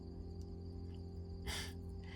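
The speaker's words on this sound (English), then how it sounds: "you can hear the crickets" Crickets chirping outside, a steady high trill over a constant low hum, with a brief louder rustle near the end.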